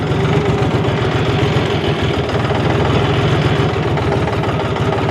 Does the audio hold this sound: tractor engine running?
yes